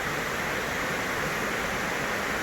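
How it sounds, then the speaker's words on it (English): Waterfall cascading along the Timpooneke Trail, a steady, even rush of falling water heard as continuous broadband hiss with no voices over it. "holy cow, there's the waterfall"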